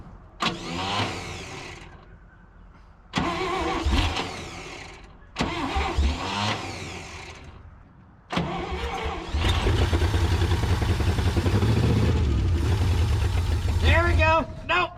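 Abandoned 1959 International B100 truck running on propane, engine cranking in several separate bursts with pauses, then catching and running roughly, close by with someone talking throughout.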